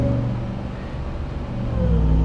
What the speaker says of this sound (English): And this truck just sounds so damn good.